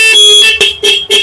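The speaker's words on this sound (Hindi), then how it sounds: "ट्यूनर को लगाने के बाद दोस्तों बाइक के हॉर्न की 8 तरीके की आवाजें निकालने लगेगी कुछ इस तरह से" Electronic horn on a Hero Splendor Plus BS6 motorcycle fitted with an 8-sound horn tuner, giving loud, high, shrill tones in quick repeated bursts at close range.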